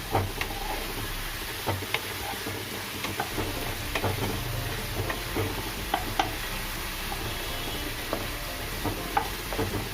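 Chicken lollipops fry in a pan over a high gas flame, a constant loud sizzle broken by scattered clicks and scrapes as a utensil stirs them, with no talking.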